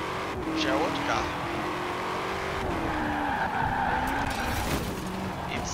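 A light Ford GT40 MKI in Forza Horizon 4 slides with drawn-out tire squeal over a steady racing engine note, the skid rising and falling throughout while someone talks over it.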